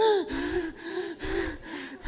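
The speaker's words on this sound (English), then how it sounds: "we have them constrict their breathing" Rapid, constricted gasping breaths come in a regular rhythm, about four strained pulses, each with a whistling, wheezy edge. Close and fairly clear, with no words spoken.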